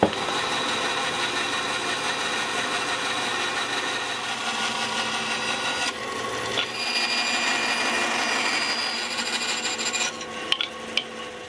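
Wood being sawn into a roughly 10mm-thick slice for a custom bridge on a 50-year-old acoustic guitar, a steady close rasping stroke that runs continuously with a brief shift midway and a few sharper scrapes near the end.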